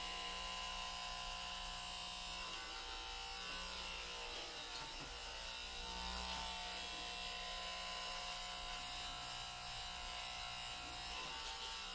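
An electric shaver hums continuously while shaving a head bald, a steady close buzzing drone that holds a constant pitch throughout with slight shifts in intensity.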